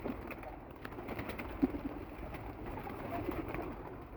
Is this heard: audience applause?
no